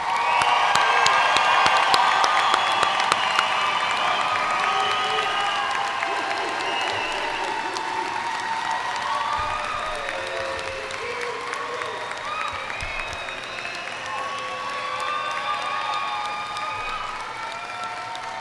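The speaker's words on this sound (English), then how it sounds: "How about one more round of applause for this graduating class?" A crowd at a school district graduation ceremony gives sustained applause for the graduating class, dense clapping mixed with cheers and shouts, loud and continuous throughout, with voices calling out over it.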